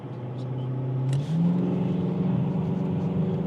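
A BMW 740 E38 with a V8 diesel accelerating hard, its deep engine note climbing steadily in pitch after a brief dip around a gear change, loud and continuous from inside the car.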